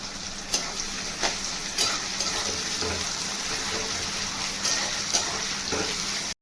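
Chopped onion and chilli frying in a pan while street-style mixed chowmein is being made, a steady broadband sizzle with a few sharp clinks of stirring scattered through, fairly close and with no talking.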